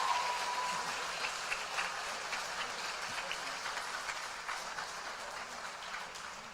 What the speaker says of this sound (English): Let's get another round of applause for our class of 2026 National Honor Society members.